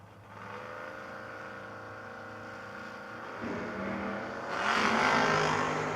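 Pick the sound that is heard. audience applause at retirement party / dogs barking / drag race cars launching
drag race cars launching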